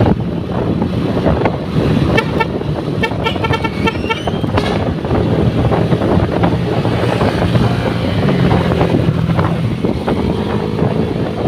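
A motorcycle ride along roads in Barangay Wakon, Candelaria, Zambales, with heavy wind buffeting the microphone over a low engine rumble and a cluster of horn toots early on.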